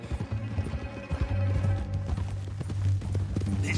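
Horse hooves clip-clop at a steady trot in a video game set on the way to Saint Denis, loud and close over low rumbling background sound.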